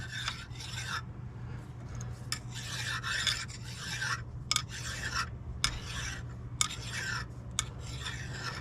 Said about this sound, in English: I've taken a small file here and just get all the burrs off possible.